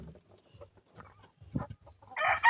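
Backyard chickens cluck in short, soft bursts, ending in a louder, harsher squawk from a nearby bird.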